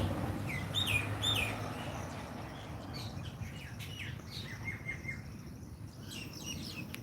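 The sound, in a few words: Asian koel singing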